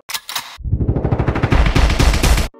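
A gunshot sample in a bass house track sounds as a rapid machine-gun-like burst of sharp, punchy shots that builds in weight and ends abruptly, following a brief clipped lead-in.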